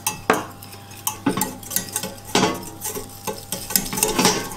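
Flour being stirred into melted butter in a pan, a utensil scraping and clattering against the metal in repeated strokes with a faint sizzle underneath, close and alone.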